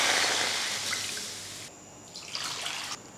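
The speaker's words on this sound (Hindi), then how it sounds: "एक बर्तन लेंगे, इसमें डाल देंगे मटन और इसमें डाल देंगे पानी" Water pours from a vessel into a cooking pot holding mutton, a bright splashing stream that thins partway through, then a few gurgling trickles and drips before stopping.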